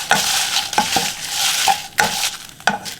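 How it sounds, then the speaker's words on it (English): Dried chilies with salt toasting in a hot pan, a close, steady dry sizzle and rustle broken by sharp scrapes and clinks as a utensil stirs and knocks against the metal, with no voices. "Now we're gonna toast our chilies."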